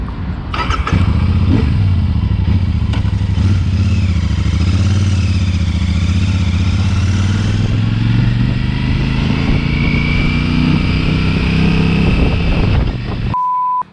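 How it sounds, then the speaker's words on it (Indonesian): A Royal Enfield Super Meteor 650, a 650 cc twin-cylinder cruiser, drones steadily through a smooth exhaust while being ridden, its note climbing gradually before cutting off abruptly near the end. "karena suara knalpotnya sebenarnya halus banget teman-teman"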